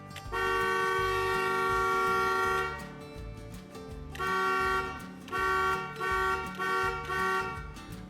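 A car horn honks, first in one long sustained blast of nearly three seconds, then in several shorter toots, loud and close with no talk.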